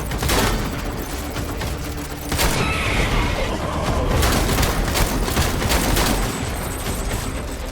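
Repeated shotgun blasts in a Death Stranding boss fight against a combat veteran, heavy booming shots mixed with ongoing combat noise, no talking.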